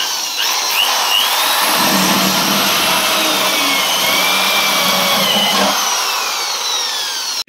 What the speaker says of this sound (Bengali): তো দেখো এখন আমরা বালতি ফুটো করবো